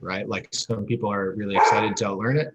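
A dog in a work-from-home setting barks and yips in short bursts behind a person talking steadily in the foreground.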